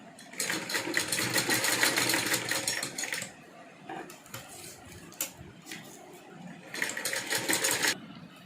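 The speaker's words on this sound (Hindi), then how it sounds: "ये इस तरफ एक एक सिलाई और लगा लेंगे।" A sewing machine stitches lace and lining onto a small Laddu Gopal dress, running in fast rattling bursts with short pauses and a final burst near the end, close and loud.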